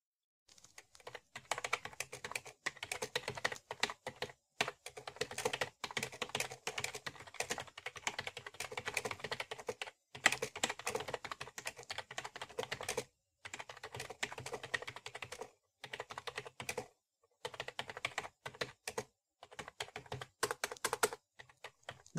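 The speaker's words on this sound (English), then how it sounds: "And now for the typing test." Steady typing on a Bakth RGB illuminated gaming keyboard, with rapid plastic key clacks in bursts broken by short pauses, recorded close and clear with no talking.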